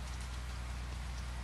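Steady, soft rainfall heard from inside a car, a constant even hiss of drops with no voices over it.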